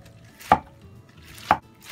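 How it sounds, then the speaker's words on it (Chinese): Knife chopping soaked, softened snow fungus on a board: three single crisp chops spaced about a second apart, close and distinct against a quiet background. "呢個雪耳咧就已經浸軟噶啦，咁可以咧將佢切碎噶啦。"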